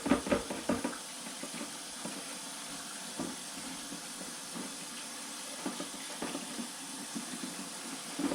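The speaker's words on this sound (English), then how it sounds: "Wash my hands off real quick." Water runs from a kitchen tap while hands are washed beneath it, a steady hiss of flow with small knocks and splashes, close and fairly quiet, with no voices.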